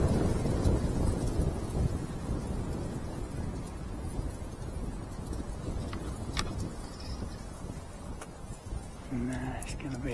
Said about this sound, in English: Let's just wait for this wind to drop a bit.